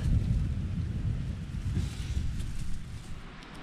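Low rumbling thunder during an outdoor storm in the wilderness, a deep continuous roll mixed with wind buffeting the microphone.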